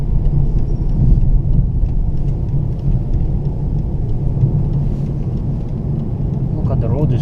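BMW E60 5 Series 177 hp diesel cruising on a motorway at night, a steady low engine drone and road roar filling the cabin without letup, with someone talking now and then over it.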